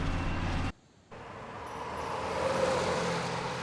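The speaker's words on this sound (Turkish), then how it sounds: "Bu da trafikteki araçların sesi." Steady roar of road traffic with vehicles rumbling past, briefly dropping out for a moment before the wash of engine noise returns.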